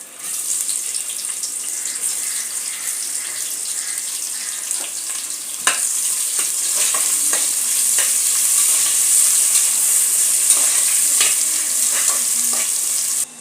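Onion frying in a pot while chicken biryani is being prepared, a continuous close sizzle with scattered stirring clatters and a faint watery hiss, with no voices.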